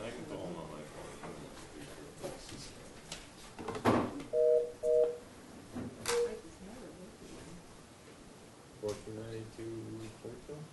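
A phone dials a call during a zoning board meeting, with two short bursts of paired keypad beeps set among people talking and room noise.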